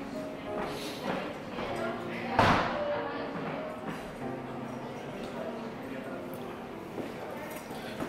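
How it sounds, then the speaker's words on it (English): An indoor door is pushed shut with a single solid thump partway through, heard amid room noise and someone talking. "I'm gonna shut the door."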